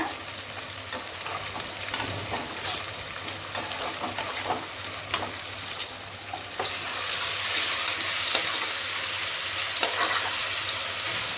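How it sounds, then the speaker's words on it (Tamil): Green chillies and vegetable pulao ingredients sautéing in a pan, a continuous sizzle punctuated by repeated stirring scrapes, growing louder and steadier in the second half, with no speech. "நல்லா எல்லாமே வதங்கிடுச்சுங்க"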